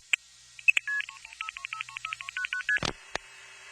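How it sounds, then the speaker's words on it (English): A push-button landline telephone being dialed: a quick run of about fifteen short beeps at an even pace, close and clear, with a couple of clicks before and a clunk at the end. "I had to push a series of buttons, actual physical buttons, to dial the number."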